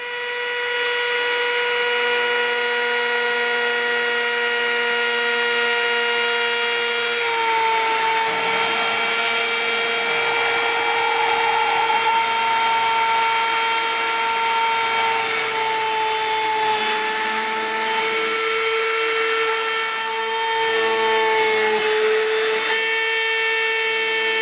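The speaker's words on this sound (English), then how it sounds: "we're going to be drilling holes into the material with this Dremel bit" A Dremel rotary tool with a very small drill bit, size 63 or 57, drills small holes into material, giving a steady, high, harmonic motor whine that runs unbroken throughout, with slight pitch dips as the bit bites.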